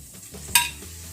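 Jaggery syrup for pori urundai bubbling and sizzling in a pan on the stove, a soft steady simmer with one brief louder hiss of stirring partway through.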